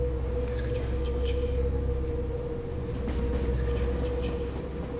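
Steady rumble of a train wagon rolling on rails, a continuous low roar with a sustained hum and occasional faint squeaks and clicks, close and loud throughout with no talk.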